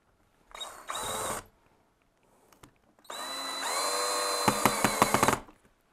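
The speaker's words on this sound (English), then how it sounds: "Let me put my screws in here." Power drill driving screws into a Sargent 10X door lock assembly, a short whir, a pause, then a longer steady run ending in a few clicking ratchet bursts, close and loud.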